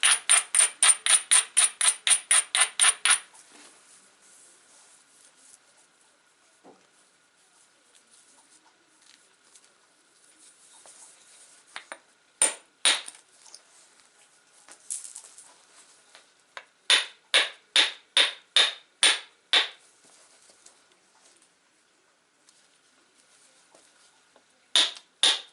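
Red Flint Ridge flint has its edge ground during flintknapping, producing rapid, rhythmic scratchy strokes in sharp bursts. A fast run opens, then come scattered quiet scrapes and later another series of strokes, close and with no speech.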